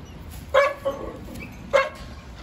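A female Presa Canario barks twice, short loud woofs with a pause between them, close by over faint background noise.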